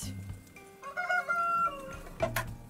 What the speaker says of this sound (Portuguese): Se esse galo cantou exatamente nesse momento, é a sincronia perfeita.